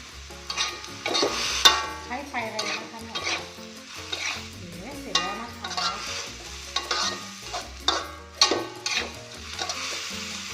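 Bean sprouts and sausage stir-fried in a hot pan, with steady loud sizzling and repeated scraping, clattering strokes of a spatula throughout.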